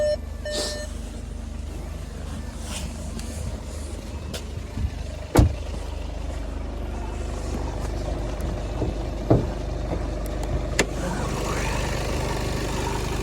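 A 2018 Skoda Superb Laurin & Klement's 150-horsepower 2.0 TDI diesel engine idles with a steady low rumble close by, broken by a couple of faint clicks and knocks.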